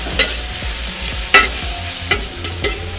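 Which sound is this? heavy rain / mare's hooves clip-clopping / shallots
shallots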